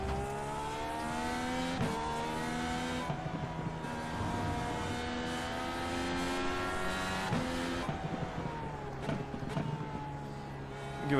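Race car in the iRacing sim accelerating and braking through corners, engine note climbing and dropping in repeated gear sweeps, loud and continuous, with light tire scrub under the close engine roar.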